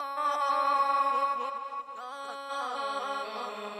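Sung vocals through a crystallizer delay effect turned all the way up in FL Studio, shimmering, glassy delayed echoes layered on top, the repeats smearing into a bright, pitch-shifted trail.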